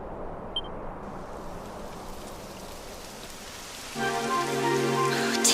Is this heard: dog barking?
no